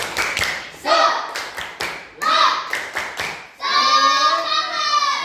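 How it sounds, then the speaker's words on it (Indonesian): A class of children in a school religious-education lesson claps a patterned classroom cheer, with sharp rhythmic claps in short groups alternating with loud chanted children's voices, ending in sustained group chanting. "Oke, tepuk semuanya. Tepuk semangat."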